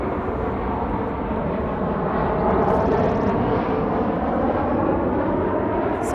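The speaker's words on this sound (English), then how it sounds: "Oh, and there's the plane" A jet airplane roars steadily overhead, a loud, continuous broadband rumble that swells slightly midway and holds without pause.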